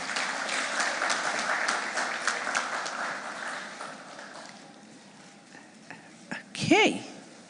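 Audience applause at a conference opening day fills the first half, then dies down to a quieter room where a voice speaks briefly, followed by a short swooping sound near the end.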